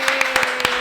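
A small audience gives a brief round of applause for an arriving guest at a political interview event, a few distinct claps standing out over a steady patter, fairly close and short.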